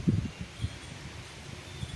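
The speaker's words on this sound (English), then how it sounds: "It's so windy today," Wind gusts through garden plants and a young elderberry tree outdoors, producing soft rustling and low buffeting rumbles that rise and fall in uneven puffs.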